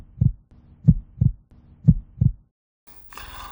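Heartbeat sound effect in a Radio Chinar 90.4 FM jingle: two paired thumping double beats, low and booming, separated by a short gap, followed by a brief burst of brighter musical sound.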